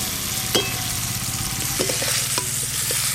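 Fried pumpkin being stirred with ground cumin and spices in a hot pan, a close, steady sizzle with a few scraping clicks of the spatula, no voices.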